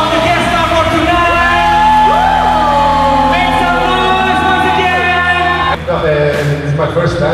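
An audience at a badminton event with guest stars John Terry and Alessandro Nesta cheers, whoops and yells steadily, and a voice rises now and then above the sustained crowd noise.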